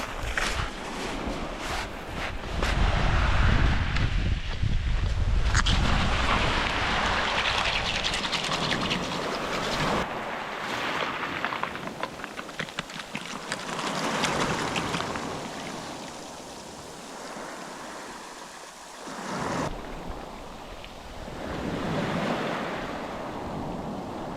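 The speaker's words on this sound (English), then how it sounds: "this bit is really windy" Strong wind buffets steadily while sea waves surge and wash over a shingle beach, the roar swelling and easing in long, loud, close waves with no talking.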